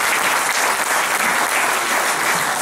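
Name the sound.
audience applause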